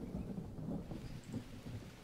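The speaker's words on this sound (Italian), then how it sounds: "Ecco qua, piove che fa schifo." Rain and thunder in the jungle survival game Green Hell, a faint steady patter of rain with soft low rumbles of distant thunder, no voices.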